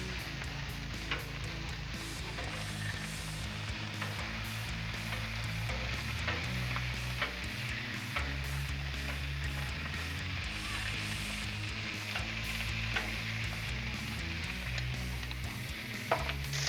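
Bratwurst fry on a Blackstone griddle with a steady, soft sizzle and occasional crackles throughout, a low background hum underneath and no talking.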